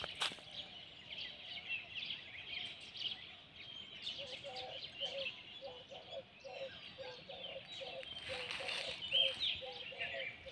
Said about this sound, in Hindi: और आपको ना चिड़ियों की आवाज़ें सुनाता हूँ